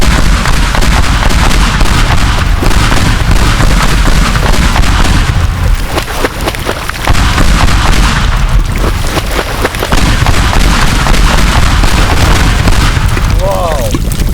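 Bombs detonating in the destruction game Teardown, a dense run of loud booming blasts with crackling debris, continuous across the stretch with a brief lull in the middle, while a voice talks over the chaos.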